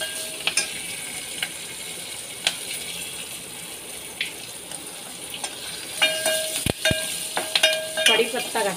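Curry leaves and green chili crackle in hot oil with garlic while being stirred for kadhi, a soft sizzling bed with scattered sharp pops and scraping stir sounds growing busier toward the end.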